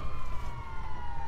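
A faint, steady siren from an ambulance in the GTA 5 video game, with a sustained wailing tone that drifts slightly in pitch over a low rumbling background.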